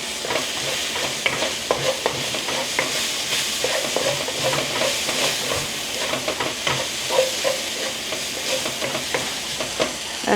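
Ground beef dumpling filling with black pepper is stirred in a hot pan. A steady, loud sizzle runs throughout, with scraping strokes of the spoon on top and no voices.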